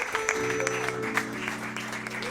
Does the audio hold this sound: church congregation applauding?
yes